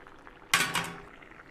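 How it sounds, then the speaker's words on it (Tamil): Drumstick kootu boiling in a pot, a sudden burst of bubbling and clatter that swells up loud and close, then slowly fades. "ஸோ இது நல்லா கொதித்து வேகட்டும்."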